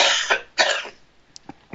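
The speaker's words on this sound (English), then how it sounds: "I'm going to cough again" Several harsh coughs from a nearby person: two loud broadband bursts, then a few shorter, quieter coughs trailing off, with no talking.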